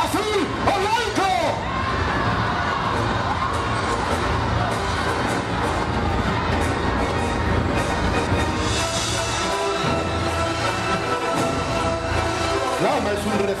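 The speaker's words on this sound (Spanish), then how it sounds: "¡Es el momento! ¡Gritar el nombre del ganador!" A crowd shouts and cheers at a Roman circus gladiator show during the Fiestas de Cástulo in Linares; the roar of many voices runs loud and continuous, with announcer calls and whoops mixed in.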